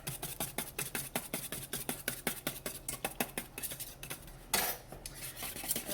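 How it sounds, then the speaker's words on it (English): A whisk beating pumpkin donut hole batter in a bowl, with quick rhythmic metallic clicks against the bowl that repeat steadily for several seconds, close and alone. A brief louder scrape follows near the end. "I'm going to whisk that together too"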